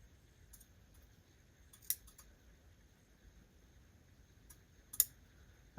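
Scissors trim paper for a junk journal page, giving a few faint, sharp snips and clicks spaced apart against a quiet background hum.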